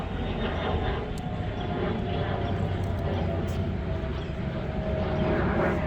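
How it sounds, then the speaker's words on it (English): A fixed-wing airplane passes overhead above a backyard garden, a steady broadband engine roar holding at constant loudness throughout with no voices over it. "there's a plane coming over"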